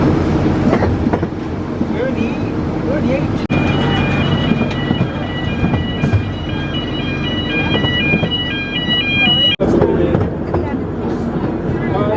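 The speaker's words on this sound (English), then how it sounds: "had a splendid ride there on the little train going around" A small amusement park train at Pleasurewood Hills rolls along with a steady rumble and clatter, a chiming melody tinkling over it, and people talking nearby.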